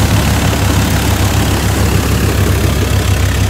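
A 960 model tractor engine idles steadily nearby, a loud, even low rumble with a constant throb running alone throughout.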